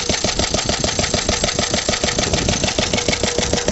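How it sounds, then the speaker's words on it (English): A Lister D single-cylinder stationary engine, with suspected valve play or a worn rear main bearing, runs steadily up close, its rapid regular knocking beat continuous and loud throughout. "Still got that formidable knocking noise"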